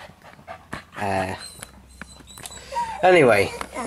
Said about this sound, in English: That was my dog whining about something.